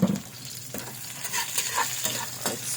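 Chopped onion is stirred and sautéed in a pan, with a soft steady sizzle under repeated scraping strokes of a spatula, close up and with no voices.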